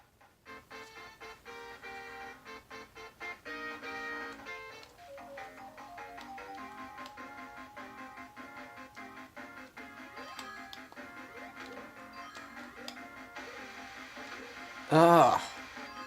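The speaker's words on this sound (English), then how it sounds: "here's what it sounds like on the ATGames Sega Genesis." Sonic the Hedgehog game music plays on an ATGames Sega Genesis clone console. The chiptune is thin, quiet and somewhat muffled, running steadily with a short louder burst near the end.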